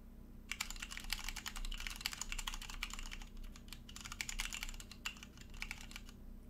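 Bursts of fast typing on an OLKB Planck ortholinear 40% keyboard with Cherry MX Red switches and XDA Canvas keycaps, close and dense clicking that pauses briefly and resumes, heard alone over a low background hum.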